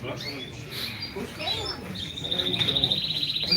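A male canary sings sharp, high trilling phrases at a bird auction, the song rising and growing denser toward the end, with background chatter and noise around it.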